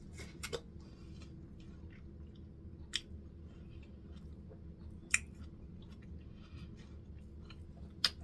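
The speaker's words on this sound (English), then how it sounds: "so I'm gonna have some watermelon for myself" Someone quietly chews pieces of watermelon close up, with soft wet munching and a few sharper crisp bites scattered over a low background hum.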